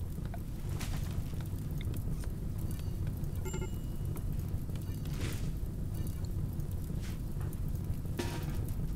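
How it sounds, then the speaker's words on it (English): Rain in the video game RimWorld hisses steadily under a low rumbling wash, faint and continuous throughout with scattered soft ticks. "Oh, now it rains."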